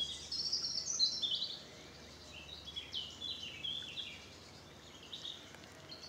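Blackcaps singing in the countryside on a spring walk near Battle, with bright warbling phrases repeating from a moderate distance over a quiet outdoor background, no one talking.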